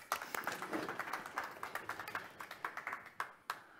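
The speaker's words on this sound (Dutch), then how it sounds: "Applaus." Scattered applause from a modest audience follows an opening speech at an energy port event in Rotterdam, individual claps distinct and uneven, fading toward the end.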